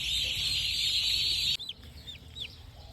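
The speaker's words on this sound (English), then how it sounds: "our baby chickens that we just got in escaped their brooder" Baby chicks that escaped their brooder chirp in quick repeated peeps, close and clear, following a steady loud hiss of background noise that cuts off midway.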